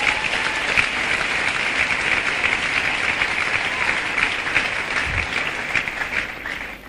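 A church congregation applauds steadily and loudly throughout, a dense, continuous wash of clapping with a few cheers mixed in.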